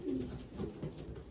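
Young ringed pigeons give soft, low throaty coos in a loose repeating pattern, close by and fairly quiet, with no voices over them.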